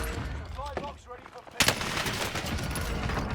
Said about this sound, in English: This gun melts. This MG42 melts.